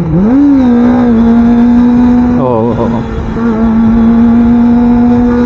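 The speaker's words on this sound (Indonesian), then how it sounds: "Kawasaki 25R Pure Sound gigi 3 ya" A Kawasaki Ninja ZX25R motorcycle engine revving in third gear, loud and close, a high steady drone that dips sharply mid-way with a quick gear-change blip before settling back to a constant whine.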